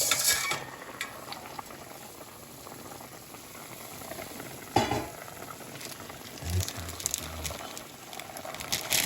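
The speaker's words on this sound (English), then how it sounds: "get that good and boiling" Pot of ramen and chicken at a rolling boil, a soft continuous bubbling with occasional clinks and knocks of utensils against the pot.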